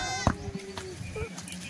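Kathiawari goats on a farm give a sharp, wavering bleat near the start and a few shorter calls after it, mixed in with nearby people talking.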